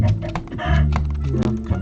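Loud clucking from a Minecraft video game chicken, close and continuous, with several bursts of squawking over a steady background hum.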